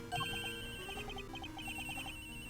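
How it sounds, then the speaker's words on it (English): Cell phone ringing in the video game Ace Attorney Investigations 2, a repeating electronic ringtone melody of short beeping notes, steady and moderately close with no talk over it. "Her cell phone."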